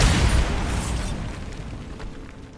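A Bombarda blasting spell explodes in a catacomb in Hogwarts Legacy, a loud booming blast that rumbles and slowly fades over a couple of seconds, with no talking.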